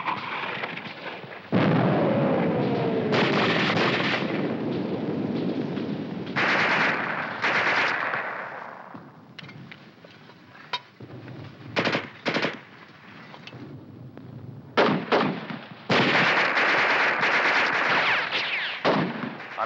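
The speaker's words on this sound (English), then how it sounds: "Keep firing that mortar! Keep it going!" Rapid bursts of machine gun fire and booming mortar shots in a wartime battle scene, loud and close, with sharp staccato volleys alternating with heavier blasts and brief lulls.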